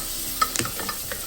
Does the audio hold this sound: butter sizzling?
yes